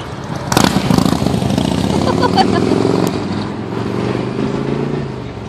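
Can-Am three-wheeled motorcycles rumble loudly at a bike week street event in Panama City Beach, a steady engine roar with revving swells and crowd chatter mixed underneath.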